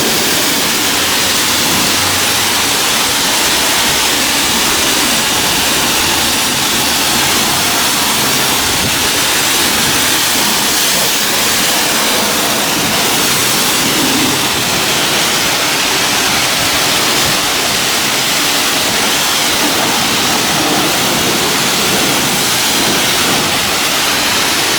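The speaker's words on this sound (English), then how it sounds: "squeeze the trigger for the high pressure water," High-pressure water sprays from a trigger wand at a manual self-service car wash bay, a loud continuous hiss and roar held for the whole stretch without pause or talk.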